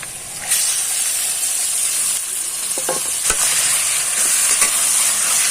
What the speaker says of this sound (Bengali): একটু নেড়ে চেড়ে কষিয়ে নেব মাংসটাকে